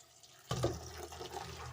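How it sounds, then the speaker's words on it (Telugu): Tap water pours into a bowl for washing spinach, a faint drip first and then a steady gushing, splashing fill that carries on for over a second. "ఇలాగా బాయిల్ నిండా వాటర్ వేయాలి. పాలకూర మునిగేంత వరకు"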